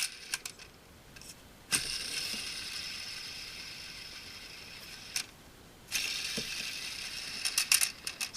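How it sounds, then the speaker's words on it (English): Toy helicopter rotor on a Transformers G2 Vortex figure spun by hand, a close, quiet ratcheting whir that runs steadily, briefly stops, then starts again with a few clicks near the end. "I love how nice the rotor spins."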